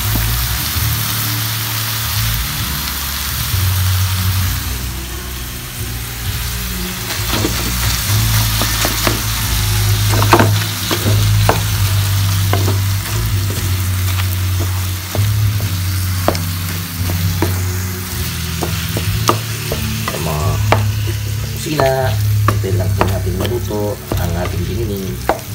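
Ground pork frying in a pan as it is broken up, a steady loud sizzle punctuated by sharp scraping and tapping of a utensil against the pan.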